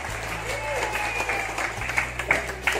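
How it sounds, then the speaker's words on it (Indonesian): Applause from an audience at a community gathering in Jakarta, a steady wash of clapping under a low hum, with a few voices talking over it. "Tepuk tangan dulu untuk semuanya."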